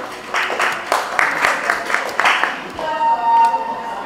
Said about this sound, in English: Please clap for her.